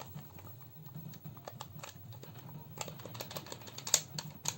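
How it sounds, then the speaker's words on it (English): Clicky buttons on a Super Joy III NES-style controller are pressed in quick, uneven bursts of light plastic taps, close and quiet, with no talking. "The buttons are kind of clicky, but they feel very loose."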